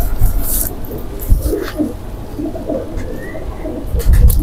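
Pigeons coo in low, soft, rolling bursts, close and repeated several times with a bright rustle or flutter at the start and end, heard with no talk.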